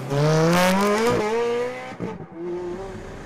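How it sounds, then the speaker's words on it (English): A Ferrari 430 Scuderia on the Fiorano circuit climbs through the revs with a sharp, sporty exhaust note, rising steadily before a quick lift-off and shift, then pulls again, loud and close. "the Scuderia has a better quality of sound, sportier exhaust note"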